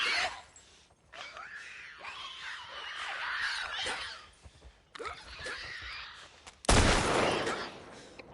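Gunfire from guns in The Last of Us 2 on Grounded difficulty, scattered shots and bursts mixed with screams and chaotic combat, ending in a loud sharp blast.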